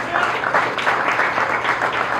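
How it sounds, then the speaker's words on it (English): An audience at the CBC Riverfront Exchange applauds the CBC president, a short burst of loud, close, dense clapping with a slightly uneven, pulsing texture and a few voices mixed in. "Give him a round of applause."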